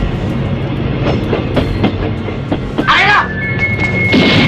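A freight train rolls and rattles steadily with clanking wagons and a metallic squeal, loud and close throughout.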